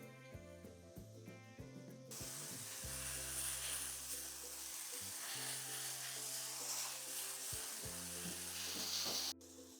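Mushrooms hit a hot pan for risotto and break into a loud, steady sizzle and hiss that holds for several seconds. Soft background music plays underneath, and the sizzle cuts off sharply near the end.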